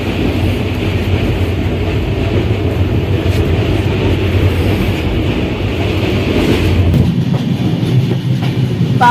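A passenger train rolls along a hilly route with high bridges in South Odisha, giving a steady, loud rumble of wheels on rails that runs unbroken throughout, with no talking.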